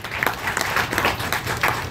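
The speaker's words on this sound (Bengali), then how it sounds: "তার সঙ্গে জন্য একটা জোরে হাততালি হোক।" Audience at a Bengali recitation event applauding reciter Manabendra Mishra, a loud, dense round of clapping sustained for a couple of seconds, with a faint crowd murmur.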